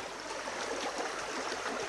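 A stream flows past an Edwardian farm estate, a soft, steady watery rush with faint trickling, quiet and unbroken, with no voices.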